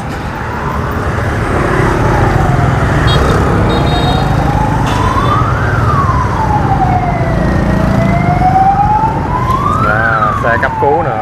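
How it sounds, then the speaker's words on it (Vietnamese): An ambulance siren wails up and down in slow rising and falling sweeps through heavy, rainy street traffic on Sư Vạn Hạnh Street in Saigon, loud and continuous over the steady roar of engines. "Xe cấp cứu nữa."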